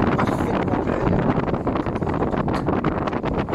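Wind at sea aboard a sailboat sailing from Port Bou toward Leucate, a loud, continuous roar and buffeting against the microphone with steady gusts and no speech.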